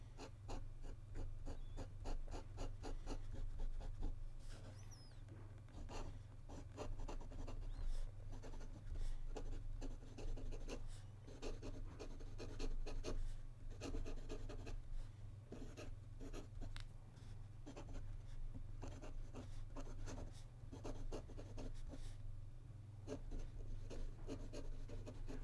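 A Pelikan M600 fountain pen nib scratches across paper in quick, continuous strokes, with slight feedback and a steady low hum underneath throughout.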